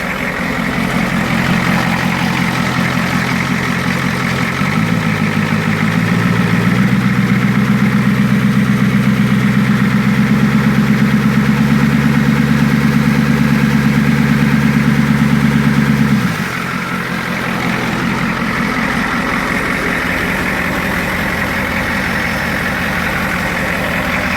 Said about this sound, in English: There you get that growling Cummins noise.